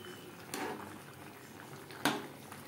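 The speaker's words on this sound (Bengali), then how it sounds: "গ্রেভি বেশ ভালো করে ফুটতে শুরু করে দিয়েছে।" Gravy with fried prawns for jackfruit-prawn curry simmering in a pot, a soft continuous bubbling with a faint burst of sound midway and one sharp clink of a utensil, close and quiet.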